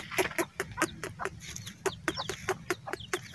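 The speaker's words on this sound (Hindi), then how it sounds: "ये छोटी सी मुर्गी है," A small hen clucks repeatedly in short, rapid bursts, close and clear, with faint bird chirps and outdoor ambience behind.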